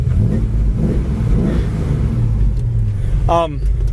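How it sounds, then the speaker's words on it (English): A 1972 Ford Mustang Mach 1 with dual exhaust revs up, a deep throaty engine roar rising and falling in pulses, loud and close, with someone talking over it and a short high whine near the end. "This car sounds great. It's got a great sound dual exhaust."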